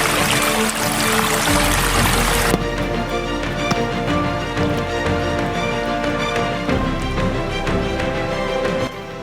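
River Gambia water pumped into a canal during the first rainy-season release pours in a loud, steady rushing stream, close and continuous, with a sharper hiss at the start.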